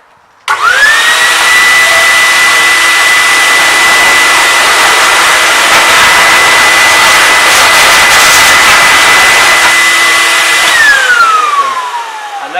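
A warm air blower roars steadily at close range while drying a motorbike, a loud continuous whine that switches on abruptly, holds for about ten seconds, then winds down with a falling pitch.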